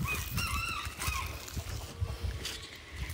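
Faint honking fowl calls from a rooster, short repeated squawks over low background noise, heard at a distance with no clear talk.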